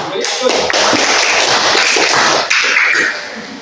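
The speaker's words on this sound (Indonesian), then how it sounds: "jadi tepuk tangan" A classroom of students claps their hands together during a lesson, a loud, dense burst of clapping that runs steadily for a few seconds with a brief dip midway.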